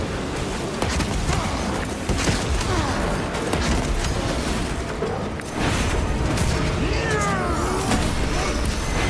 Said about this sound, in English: Frag grenade deployed.